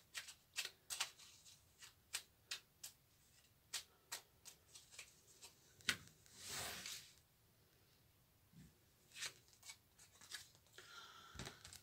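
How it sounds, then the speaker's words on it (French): Angel oracle cards shuffled and drawn by hand, a string of crisp close riffling snaps and papery flicks with a short swishing slide in the middle, all quiet and unaccompanied by talk. "J'ai envie de tirer une autre carte des anges"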